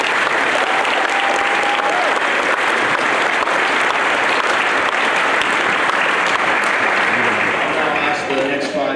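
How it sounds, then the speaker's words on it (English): Loud sustained audience applause for six student athletes at a college signing decision day, dense clapping filling the room, with a voice starting to speak as it ends. "We have one more round of applause for these 6."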